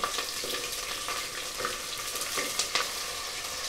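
Garlic and onion frying in sesame oil with popped mustard seeds for a tamarind curry, a steady soft sizzle with light stirring clinks, close and fairly quiet, with no talking.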